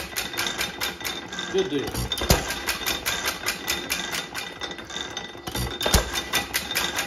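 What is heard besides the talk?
8 cycle Aermotor hit and miss engine running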